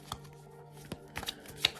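A short run of tarot cards being shuffled close by, quick riffling bursts with a few sharper snaps, no voices.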